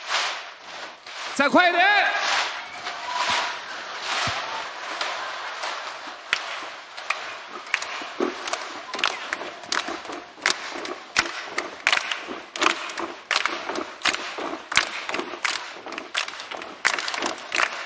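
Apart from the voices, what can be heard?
audience stomping feet and clapping hands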